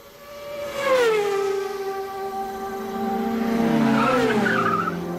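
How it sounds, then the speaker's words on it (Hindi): A high, drawn-out tire squeal sweeps downward, then a second screech follows, like a race car skidding through a turn, loud and alone. "इसके साथ ही जैसे कार हो और बाइक रेसिंग साउंड हो, वो ऐसे होते हैं।"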